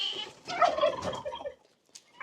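A turkey gobbles in a rapid, rattling burst lasting about a second, fairly close, followed by quiet and a couple of faint short calls.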